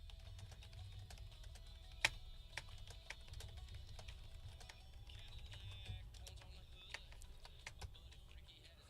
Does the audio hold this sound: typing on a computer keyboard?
yes